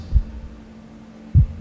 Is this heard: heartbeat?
yes